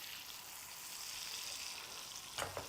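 Salmon frying in a pan while being basted, a steady soft sizzle throughout with a couple of brief scraping spoon sounds near the end.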